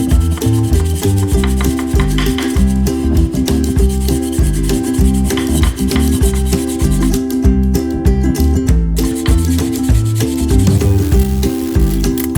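A red Scotch-Brite pad scrubs aluminum bumper trim on a VW bus, a loud, steady, close rasping rub that runs without a break.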